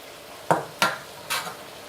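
A spoon scoops sticky rice into a coffee cup, giving three short clinks and scrapes of metal against ceramic, close and fairly loud, with no one speaking.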